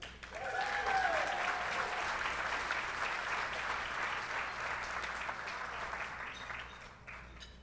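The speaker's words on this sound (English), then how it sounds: "let's give our Volunteers of the Year one more round of applause." Sustained audience applause at a YMCA annual awards celebration, steady and full for several seconds before tapering off slightly, with a voice faintly audible early on.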